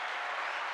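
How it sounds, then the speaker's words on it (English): Inserted applause sound effect, a short, steady wash of crowd clapping, even and continuous from start to end. "And I put the applause"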